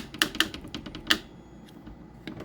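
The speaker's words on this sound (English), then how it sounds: "That's just the sound of the standoffs, the board clicking on and off." Circuit board in a 1985 Gottlieb Ice Fever pinball machine clicking on and off against its standoffs, a few sharp close clicks in quick succession with fainter ticks after.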